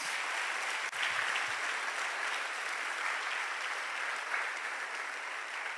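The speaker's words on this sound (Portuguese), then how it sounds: "Você pode dar um aplauso a Ele em nome de Jesus?" Congregational applause fills a church during a sermon, a continuous even roar of many hands clapping at a moderate distance, steady from start to finish without talk on top.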